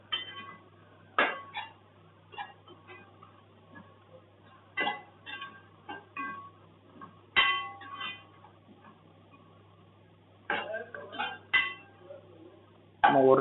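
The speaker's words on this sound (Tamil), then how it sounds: "இதுவும் ஒரு வாட்டி நல்லா மிக்ஸ் பண்ணி விட்டுருங்க." A spoon clanks against a metal pot while coriander and mint are stirred in for country chicken biryani, sharp scattered clangs and scrapes separated by quiet pauses, close and fairly faint.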